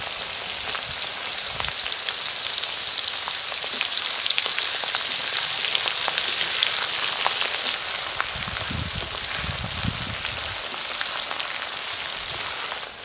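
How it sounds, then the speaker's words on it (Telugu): Ginger garlic paste frying in a pan for chicken pickle, with a dense, steady crackling sizzle throughout, occasional soft stirring scrapes underneath, and no talking. "అల్లం వెల్లుల్లిపాయ పేస్ట్ కాడ వేయించుకుంటున్నాను"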